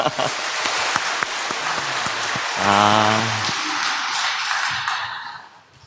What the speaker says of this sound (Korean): 오늘은 박수 좀 크게 쳐주셔야 될 것 같습니다